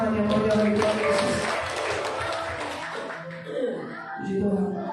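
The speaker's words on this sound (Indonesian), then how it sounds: "boleh sekali lagi tepuk tangan yang mulia bagi Tuhan Yesus" A church congregation applauds for Jesus during a Sunday service, a burst of many hands clapping that thins out after a few seconds while a voice and background sound carry on.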